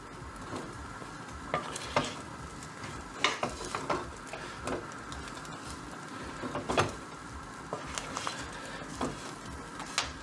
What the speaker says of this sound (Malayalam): ഒന്നും കൂടെ നന്നായിട്ട് ഇളക്കിയെടുക്കാവേ.